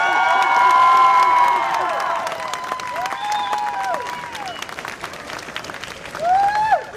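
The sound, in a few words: crowd applause and cheering at fire academy graduation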